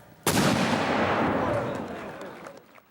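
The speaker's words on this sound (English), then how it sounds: "We had another year where there was a Civil War cannon." A Civil War cannon fires one loud, close blast at an outdoor fair shooting show, its boom rolling out into a long, fading echo over a few seconds.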